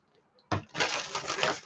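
Tarot cards being shuffled, a sudden close riffling rustle that starts after a brief quiet moment and continues as a dense papery flutter.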